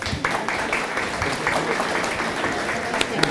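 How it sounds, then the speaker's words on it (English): An audience at a tourism event breaks into steady applause, many hands clapping together at moderate loudness for a few seconds, with a few sharper claps standing out. "Big round of applause for these guys."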